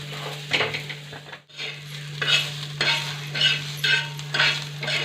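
Onion frying in a pan for misal, a continuous close sizzle with repeated stirring strokes and scrapes of a utensil against the pan, one brief pause partway through, with a low steady hum beneath.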